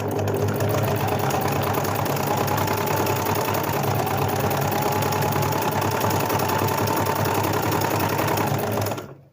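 A sewing machine runs steadily at speed while embroidering lines in a medium zigzag stitch, a close, continuous rapid mechanical whir that stops abruptly at the very end.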